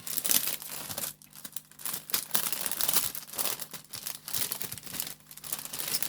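Crinkly plastic packaging of a cross-stitch kit being unwrapped by hand, irregular crumpling and tearing bursts close up, continuous with short pauses and no talking.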